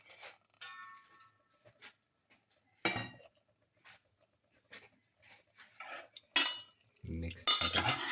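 Beef pieces are mixed with marinade in a pan, heard as scattered scraping and clinking strokes with a few louder bursts of stirring, close and fairly faint, with no voices.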